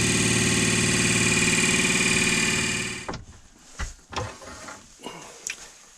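A new wood lathe spins an ash salt-mill blank at higher speed: a loud, even motor whine runs for about three seconds, then winds down and cuts out, followed by scattered knocks and handling clunks.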